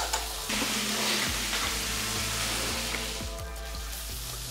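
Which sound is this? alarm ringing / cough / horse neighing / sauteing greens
sauteing greens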